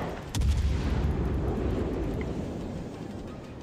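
Heavy naval guns boom in World of Warships with a Zao cruiser, one sharp loud blast followed by a long rumbling roll that slowly fades.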